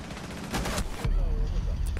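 Gunfire in Rainbow Six Siege, a dense crackle of shots with a sharp shift midway to heavier, closer firing, loud throughout, with a voice faintly present underneath.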